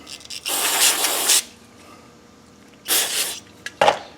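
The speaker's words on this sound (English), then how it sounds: "with some carburetor cleaner spray" Two bursts of carburetor cleaner aerosol spray, each a second or so of close hissing, separated by a quiet pause, followed by a short metallic clink, while cleaning the carburetor bowl of a Honda lawn mower.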